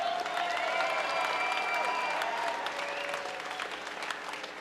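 Crowd applause at an amateur fight night after a three-round women's bout, sustained clapping mixed with some cheering and a thin whistle-like tone, tapering slightly toward the end.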